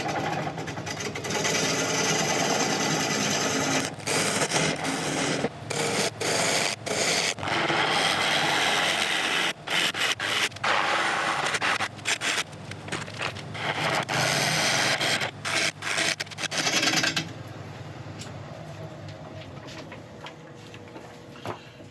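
A ball gouge cuts into spiky Mallee burl spinning on a wood lathe, making loud, rough, continuous scraping and rasping with brief catches and breaks. It eases into a quieter whir near the end.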